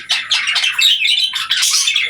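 A cockatiel lets out loud, harsh squawks close by, several raspy calls in quick succession.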